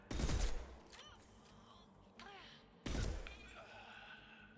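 Gunshots in the video game Mass Effect, with two loud close reports spaced a couple of seconds apart, each trailing off into ringing echoes and smaller impact noises, plus a softer thud between them.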